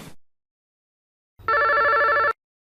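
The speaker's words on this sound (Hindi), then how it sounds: "किसे फोन कर रहे हो दामजी भाई?" A single short burst of electronic telephone ringing, a warbling trill lasting under a second after a brief faint sound and silence.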